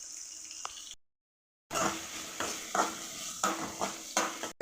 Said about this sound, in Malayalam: ഉരുളക്കിഴങ്ങ്, ഇഞ്ചി, പച്ചമുളക് ഇത് വഴറ്റിയെടുക്കാം.